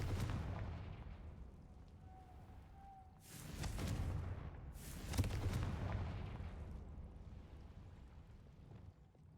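A Confringo fire spell explodes in Hogwarts Legacy, a loud booming blast followed by a second burst and rolling crackle that fades out.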